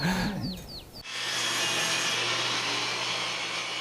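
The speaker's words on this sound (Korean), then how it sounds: "나무를 깎고 다듬어서 손수 목가구를 만들고 있는" Wood being hand-carved and shaped into furniture at a countryside home in Gurye, South Korea: after a second of quiet ambience with faint bird chirps, a steady, close, rasping sawing sound begins and continues alone.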